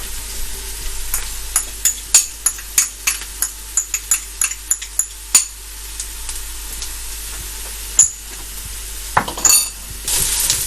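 Garlic and ginger fry with softened onion in a pan for Kochi-style pork vindaloo, a steady hiss broken by a run of sharp spatula scrapes and clinks, close and fairly loud, with no talking.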